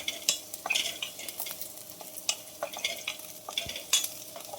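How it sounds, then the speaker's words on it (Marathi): Chillies, garlic and cumin fry in a pan, with a soft sizzle under repeated scraping stir strokes from a utensil, close by and fairly quiet. "तर आपल्याला मस्तपैकी मिरच्या आणि लसूण होतंय, जिरं टाकलेलं आहे त्यात."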